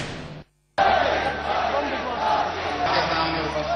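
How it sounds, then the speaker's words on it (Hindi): A large political rally crowd in Bhopal chants Narendra Modi's name, a loud, sustained roar of many voices after a brief cut to silence near the start. "इस दौरान हर तरफ मोदी मोदी की गूंज सुनाई दे रही थी।"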